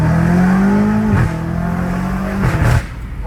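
Loud close engine note of a BMW M5 Competition fitted with downpipes, climbing under hard acceleration, then a sharp gear shift drops the pitch before it climbs and shifts again at night.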